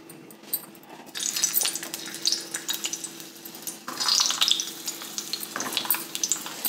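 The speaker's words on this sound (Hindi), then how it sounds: "अब आइए परवल को थोड़ा सा कढ़ाई में तल लेते हैं।" Pointed gourd (parwal) pieces frying in oil in a kadhai, a steady close sizzle that swells louder at moments, with scraping stirs and light clinks scattered through.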